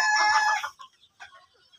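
Egg-laying Egyptian Fayoumi hens on a farm in Taraganj, Rangpur let out a loud drawn-out squawking cluck, followed by a few softer scattered clucks.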